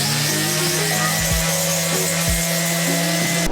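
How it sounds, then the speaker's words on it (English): A 60 grit palm sander works over 3D printed parts with a constant close whir, its pitch swooping down and up a few times as pressure changes, and no voices are heard. "I mostly used my 60 grit palm sander on the very large areas and the bits that I could get to"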